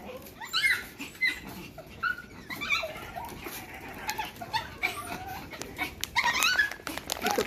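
Two dogs whimper and yip excitedly at morning feeding time with kookaburras nearby, a busy stretch of high, thin whines and short yelps, close and fairly continuous, with outdoor chatter and bird calls mixed in.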